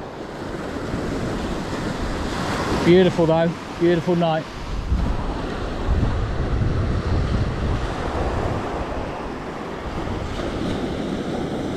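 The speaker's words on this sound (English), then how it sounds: "As you can hear, the waves are getting closer to my feet." Ocean surf breaks and washes steadily onto a shingle shore at Worthing at night, with loud wind buffeting the microphone; someone speaks briefly over the waves.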